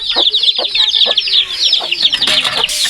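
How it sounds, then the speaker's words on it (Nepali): Small chicks cheep constantly in high, rapid peeps while larger chickens cluck in short, low bursts nearby, a loud, close, busy flock sound of poultry in a household yard. "म चाहिँ यसमा सानो चल्ला छोड्ने छु"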